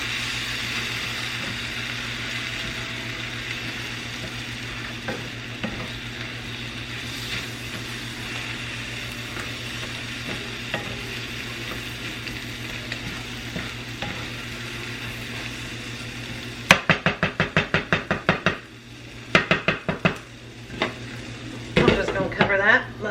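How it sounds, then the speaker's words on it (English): Ingredients are stirred together in a frying pan: a long steady kitchen hum gives way to a run of quick, close scraping and clattering strokes against the pan, growing more irregular toward the end. "And now I'll mix that all in here together."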